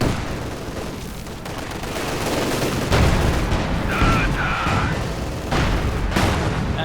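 Grenade blasts and gunfire from a Company of Heroes 2 match with a Panzer IV advancing, dense battle noise with repeated heavy booms and crackling shots throughout, fairly loud and continuous.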